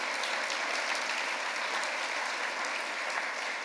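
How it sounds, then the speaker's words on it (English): An audience at an international literary award event applauds continuously, a dense, even wash of clapping hands held at a steady level throughout. "Let's give them a nice round of applause."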